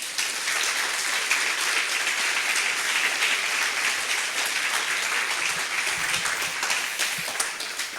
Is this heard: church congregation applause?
yes